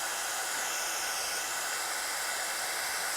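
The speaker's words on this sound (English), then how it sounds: "So I'm going to finish heat setting the rest of this image" A heat embossing tool blows steadily to set a stamped embossing image, a constant close whooshing hiss like a hair dryer that holds for the whole stretch with no talking.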